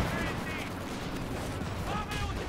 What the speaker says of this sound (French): C'est des grenades.